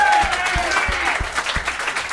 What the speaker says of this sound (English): So I want an applause for him